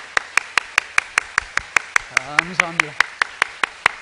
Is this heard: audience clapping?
yes